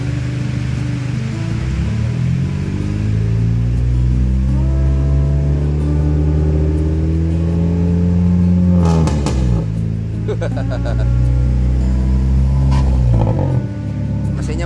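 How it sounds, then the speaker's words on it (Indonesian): Engine of a used luxury sedan at a car lot revving up and down, loud and close, with harmonic tones rising and falling over several seconds before dropping off and revving again. "Coba digas, Om Dul."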